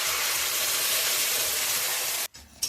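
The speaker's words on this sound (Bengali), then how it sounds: "এখন নেড়ে চেড়ে মশলাটা খুব ভালো করে ভেজে নিতে হবে যতক্ষণ না মশলায় তেল উঠে আসছে" Spice paste (masala) frying in hot oil in a pan, a steady dense sizzle that runs unbroken, then cuts out abruptly near the end before a short burst returns.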